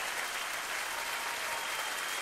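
Studio audience applauding on a French TV show, a steady dense wash of clapping that holds evenly throughout without breaks.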